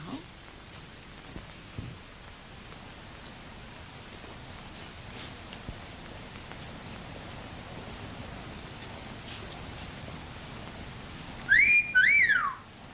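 A railway worker whistles outside, a short two-note rising-and-falling tune that comes near the end over faint room hiss and quiet rustling.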